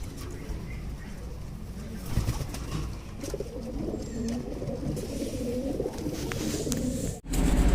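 Madrasi-type pigeons, including a white flock, cooing in soft low repeated calls throughout, close and moderate, with background rustle and a brief knock near the end.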